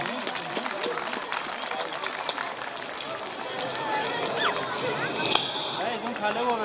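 Applause from an audience at a Children's Day celebration in a higher secondary school in Kargil, greeting a student award winner; a steady, dense clatter of clapping with voices mixed in throughout.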